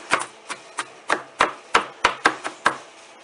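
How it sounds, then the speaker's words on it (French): A kitchen knife chops vegetables for a green bean and carrot vegetable terrine, striking the cutting board in about ten sharp, close, evenly spaced taps with no talk. "après, avec mon couteau, je recoupe un peu comme ça"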